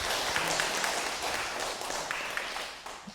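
Audience applause inside Dogo Catholic church during a retreat talk, a steady wash of many hands clapping throughout, moderately loud and unbroken.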